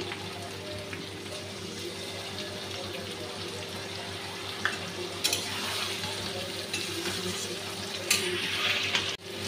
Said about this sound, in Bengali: এখন গুলে রাখা মশলাটা দিয়ে দিচ্ছি